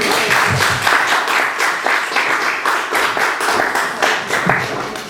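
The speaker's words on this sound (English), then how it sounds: "give a big round of applause and welcome Cormac to the stage" An audience applauds to welcome a speaker to the stage at a BettaKultcha event in Manchester, giving steady, dense clapping from a nearby crowd, loud and continuous for several seconds.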